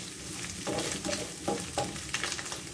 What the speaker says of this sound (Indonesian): goreng teri nasi rasa bawang